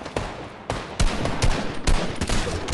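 Rapid gunfire bursts in the Fortnite video game, sharp loud cracks repeating in clusters with near shots over a dense background of distant fire.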